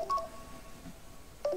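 A short run of telephone keypad tones plays in quiet surroundings: a few beeps at the start, a pause, then more tones at the end.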